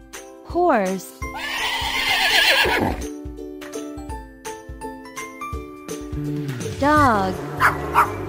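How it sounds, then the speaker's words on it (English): Two loud horse whinnies, one near the start and another toward the end, with animal and barnyard sounds and jingling in between. "Horse."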